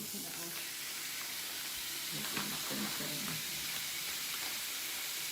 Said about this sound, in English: you want to sear the meat, and it wouldn't sear it if you did too much at once.